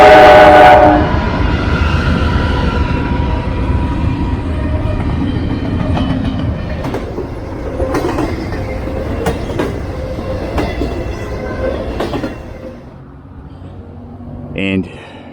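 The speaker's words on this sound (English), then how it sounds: "Got a train going by." A train horn blares at the start, then a train rumbles past in Abingdon, Virginia, with rhythmic clacking of wheels on rails, fading gradually, with a voice briefly heard.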